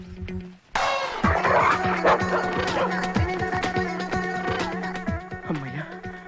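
A dog barks and whimpers in a bedroom setting. Yelps and barks come close and loud in quick irregular bursts over a continuous comic music score.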